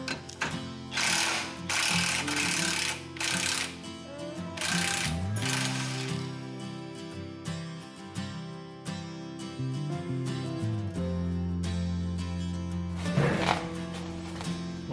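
A ratchet wrench working a 17 mm bolt underneath a 2002 Nissan Xterra during suspension work, with rapid metallic clicking in bursts and pauses plus clanks of tools, heard close with no talking.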